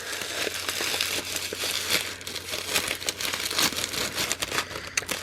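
Gift wrapping crinkles and rustles as a Secret Santa present is unwrapped by hand, with steady, close, moderately quiet crackling and crumpling bursts throughout.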